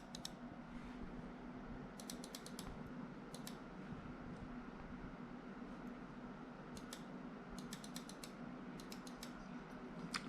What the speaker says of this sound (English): You can hear me clicking it.